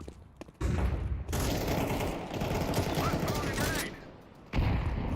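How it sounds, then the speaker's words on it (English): Inside a video game match, a flashbang grenade is deployed amid bursts of loud rapid gunfire and booming blasts that come in stops and starts, close and harsh, with a voice talking in places. "Deploying flashbang."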